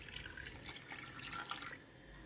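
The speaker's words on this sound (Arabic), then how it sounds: "غندير دابا هنا شويه ديال الماء" Water is poured into a cooking pot that already holds ginger, spices and fat, while a couscous stew with seven vegetables is being made. It comes as a short, steady splashing trickle that lasts about two seconds, with no talk over it.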